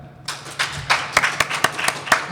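A live podcast audience at a comic convention breaks into clapping, a short ragged run of close hand claps that picks up after a brief quiet start and stays sparse and uneven.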